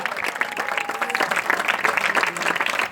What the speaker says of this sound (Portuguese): Dá um glória a Deus aí, aplaude a Ele